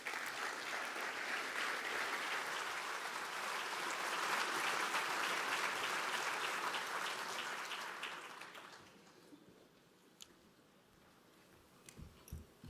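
An audience claps at the World Seed Congress 2026 opening ceremony in Lisbon, broad steady applause swelling and then fading out after about nine seconds, leaving a quiet room with a few scattered sounds.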